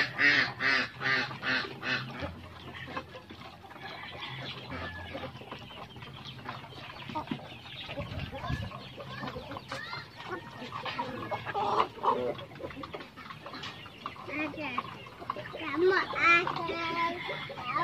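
Chickens cluck and squawk repeatedly nearby, with a person talking over them.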